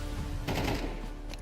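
A flashbang goes off in a video game: a short, faint burst of crackling bangs in quick succession, then fading noise.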